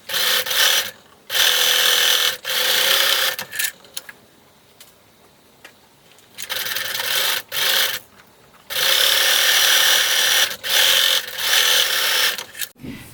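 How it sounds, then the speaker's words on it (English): Sewing machine running a straight stitch along slipper seams with a 1/4 inch allowance, loud bursts of whirring stitching lasting a second or two each, separated by short pauses and one longer quiet gap, with no talking. "you're going to sew each of these straight seams with a 1/4 inch seam allowance"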